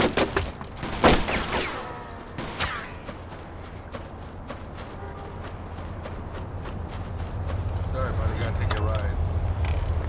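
Gunfire in the video game Mafia II: several sharp shots early on, then rapid bursts of fire over a steady low rumble, with a voice talking over it.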